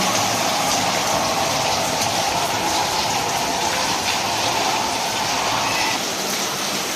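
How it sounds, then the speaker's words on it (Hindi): A dense, loud wash of heavy rain hisses continuously and evenly throughout, with no voices. "ये देखें जी कितनी तेज बारिश लगी हुई है।"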